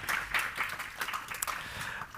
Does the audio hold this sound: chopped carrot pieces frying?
no